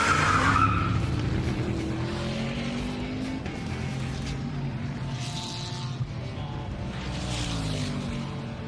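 Two cars launching in a drag race, one of them a Toyota Corolla, with engines roaring loudly and tires squealing throughout, the noise rising and falling in waves.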